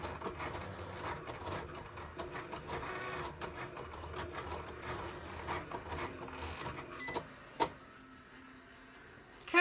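Cricut machine cutting and embossing thank you cards, a close, busy whir of a motorized carriage with rapid ticking and rattling, brief pauses and a couple of sharp clicks near the end.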